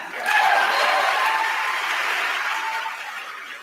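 Sustained audience applause in a hall during a Hall of Fame ceremony honouring Puerto Rico, a dense wash of clapping that swells quickly and holds steady at close range before tapering slightly.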